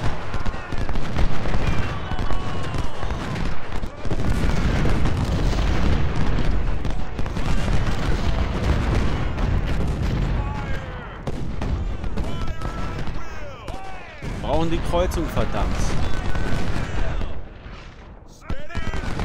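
Continuous cannon booms and crackling musket volleys on a Civil War battlefield in Ultimate General: Civil War, dense and loud throughout, with someone talking over the gunfire.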